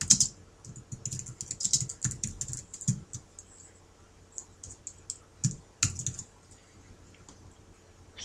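Computer keyboard typing while database code is entered, with quiet irregular bursts of clicking keys and pauses between runs, fairly close and soft.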